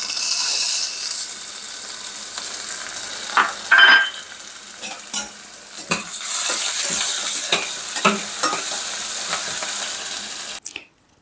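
Dried red chillies, green chillies and ginger frying in a pan for rice upma give a loud continuous sizzle with stirring scrapes and clinks, close up, fading out at the end, with no one speaking.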